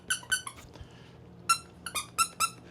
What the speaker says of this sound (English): those squeaky things that go inside of like a dog toy